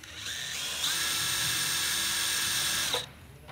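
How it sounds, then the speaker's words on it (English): An electric drill bores out rivets on an old warbird aircraft, a close, loud, high-pitched whine that ramps up and holds steady for about two seconds before cutting off. "now what I have to do is continue drilling these rivets out"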